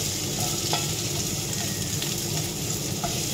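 Red onion sautéing in a pan, a steady close hiss of sizzling oil with faint stirring clicks throughout.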